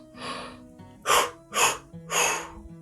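Forceful breathing during walking practice: a softer breath, then three strong, rhythmic breaths in quick succession, close and alone.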